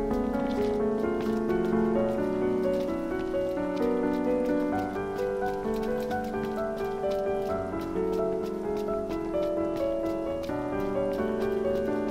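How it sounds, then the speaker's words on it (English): Rain drums steadily on a moving car in the Final Fantasy XV video game, a dense, even patter blended with a soft, tonal musical bed that runs unbroken for the whole stretch. "Driving sucks when it rains."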